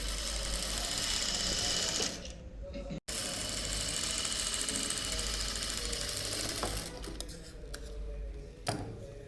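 A sewing machine stitches a high-neck blouse in a steady, fast motorized whir. The run stops briefly, restarts, then trails off into lighter clatter near the end.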